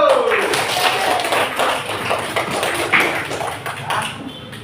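A class of students in an Indonesian classroom claps their hands in a burst of rapid, fairly close claps over several seconds, with voices talking over the clapping.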